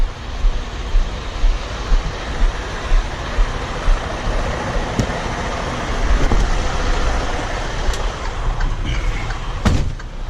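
A truck eases a 53-foot trailer backward into a loading dock on an open road, its steady diesel rumble and low road noise running continuously, with a few sharp clicks and hisses near the end.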